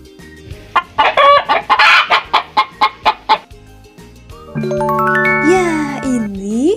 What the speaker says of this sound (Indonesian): Ya, ini adalah suara ayam.